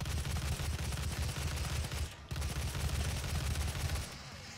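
A new gun in DOOM fires in a rapid, pounding stream of heavy shots with deep booming low end, breaking off once briefly, then resuming before quieting near the end.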